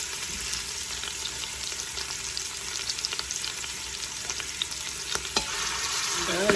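Pork pieces for pulled pork browning in hot oil in an Instant Pot, giving a steady, close sizzle with faint crackles and a few scraping touches, no talk.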